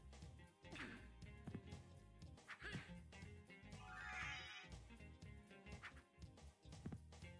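A dog barks and yips repeatedly in the Sega Saturn game Dracula X Ultimate Mod, with short sharp barks mixed into busy game music and effects.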